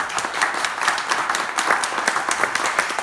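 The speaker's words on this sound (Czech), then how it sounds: "takže zatleskat Milanovi" Audience clapping for a sound technician at a talk by a Czech writer and traveller, a steady crisp patter of many hands, fairly close and sustained, with no voices over it.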